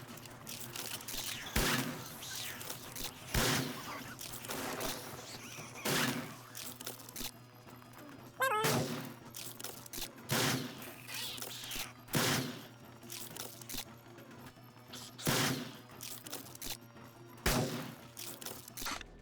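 Shotgun blasts in the survival game 7 Days to Die, a series of loud, sharp booms spaced a second or two apart across the clip, over a low background rumble.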